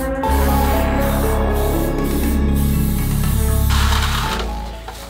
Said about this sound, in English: And I'm gonna add some spray glue.